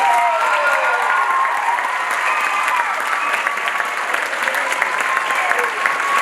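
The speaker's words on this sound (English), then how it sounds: "So one more round of applause for our cast and crew." An audience at a school musical-theatre production of Orphan Trains gives a loud, sustained round of applause for the cast and crew, dense and continuous, with a few scattered voices and whoops rising through it.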